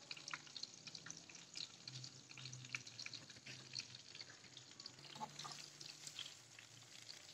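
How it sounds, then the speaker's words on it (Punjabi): Kebabs coated in gram flour fry in ghee over low heat, a soft, steady crackle close by with watery bubbling and a few louder spits, no voices. "ਉਹਨੂੰ ਸਾਫ ਬੇਸਣ ਵੀ ਲਗਾਇਆ, ਉਹ ਮੈਂ ਫਰਾਈ ਕਰ ਰਹੀ"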